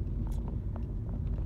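Steady low rumble inside a moving car, a constant engine and road drone with faint rattles and no talk.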